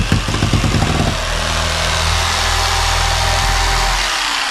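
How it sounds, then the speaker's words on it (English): A jigsaw cuts through foam on a Bayliner boat, opening with a choppy rattling burst before settling into a loud, continuous buzzing motor drone close by. "I've been taking the jigsaw and I'll start from one edge"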